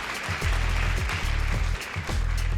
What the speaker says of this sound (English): I have to leave when they clap